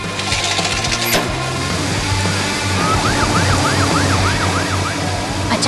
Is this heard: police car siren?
yes